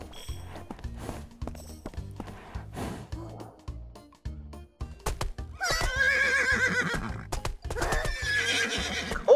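A horse in a video game whinnies and snorts between rhythmic clip-clopping hooves, the neighs rising loud and close near the end, with brief gasps in between.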